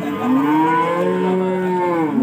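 Cattle being sold as young feeder stock at a livestock market bellow in one long, loud, sustained moo that fills the whole moment, close by and with no talking.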